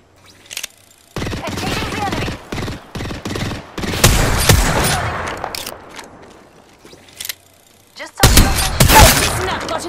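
Gunfire in Apex Legends comes in several loud rapid bursts separated by short silences, with a long sustained volley near the end, close and sharp.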